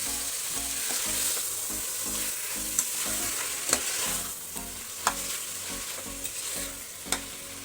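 Avarekalu field beans and chicken sizzle in a frying pan as they are stirred together for a village-style chicken saaru, a steady frying hiss broken by sharp spatula scrapes and taps at irregular intervals.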